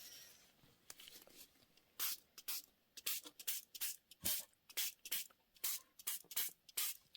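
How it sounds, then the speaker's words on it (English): Short bursts of aerosol spray hiss, close up, coming in a quick irregular series after a quiet start, with no talking. "Now, do I want to spray it a little bit more?"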